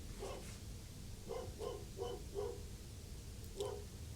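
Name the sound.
neighbor's dog barking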